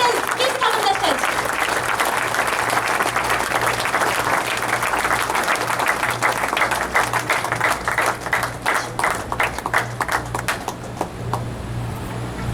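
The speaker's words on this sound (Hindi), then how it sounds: "प्लीज बेहद सम्मान में तालियां चाहूंगी" Audience applause at an academy event as a guest is invited onto the stage, dense and loud clapping that fades into more scattered claps toward the end, with a low steady hum underneath.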